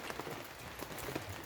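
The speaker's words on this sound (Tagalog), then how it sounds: "Muulan dito sa lugar namin mga palang guys." Steady rain falls outside a rural farm home in the Philippines, a soft continuous patter with scattered drop ticks, fairly quiet and without talk.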